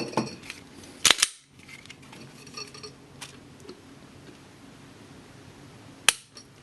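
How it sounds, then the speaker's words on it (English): Walther PPQ pistol dry-fired, its trigger pull ending in a few sharp, close metallic clicks: a quick double snap near the start and a single click later, with faint handling noise between. "Gotta make sure the safety gets depressed or I can't pull the trigger"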